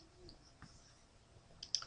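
Computer mouse clicks, soft and quiet over faint room noise, with a couple of sharper clicks near the end of the short stretch.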